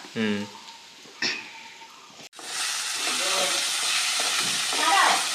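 Food sizzling and hissing in a hot pan, a steady close frying noise that starts abruptly after a brief stretch of speech and continues with stirring scrapes.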